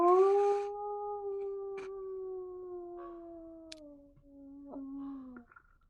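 Several creatures howl together in a misty woodland scene from a Curse of Strahd tabletop session, long sustained overlapping tones that slowly sink in pitch. Faint scattered clicks sit beneath, and no one speaks.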